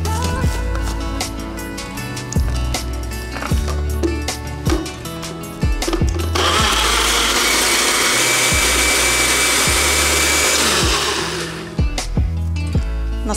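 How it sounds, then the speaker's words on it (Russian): A blender whirs up a yellow smoothie with water added, heard close and loud: a long roaring blend in the middle, framed by rhythmic thumps and music, with someone talking. "Я сейчас закрываю чашу и буду блендерить."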